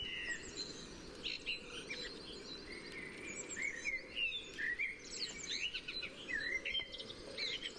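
A blackbird sings mellow, fluty phrases in short bursts amid a dawn chorus of other chirping birds, picked up outdoors with a parabolic reflector over a constant low background hiss.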